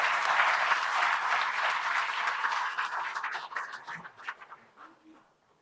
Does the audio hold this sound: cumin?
no